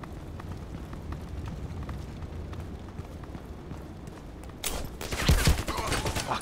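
A sniper rifle fires in a shooting video game: a low background din of distant game action, then a sudden loud sharp report near the end followed by a burst of noisy rumble.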